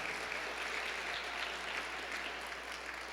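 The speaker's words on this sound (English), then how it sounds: "let's give her a big round of applause." An audience applauds a councilmember at a school presentation, with steady, dense clapping that holds evenly throughout and is heard from a moderate distance.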